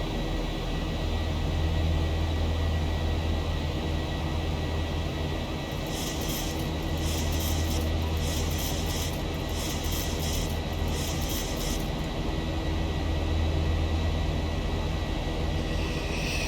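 Boeing 737-800 climbing after takeoff in the X-Plane 11 flight simulator, a steady, loud engine roar and broadband rush throughout, with a series of short rhythmic high clicks partway through.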